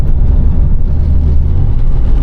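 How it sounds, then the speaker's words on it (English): Steady low rumbling road noise from tires rolling on pavement, a continuous loud hum inside a moving 1986 Ford Bronco II. "I got a little bit of road noise from the wheels themselves"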